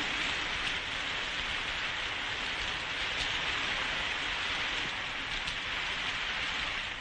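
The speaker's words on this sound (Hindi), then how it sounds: "ये बारिश तो फिर से तेज हो गई।" Heavy rain pours down in Bombay, a loud unbroken wash of hissing drops that stays even and dense from start to finish, with no voices.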